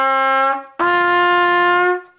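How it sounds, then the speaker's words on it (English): A trumpet plays clear sustained notes up close: a high G, then a lower D, bright and steady, with a short breath gap between them. "So start up high, go down to the D and back to the G."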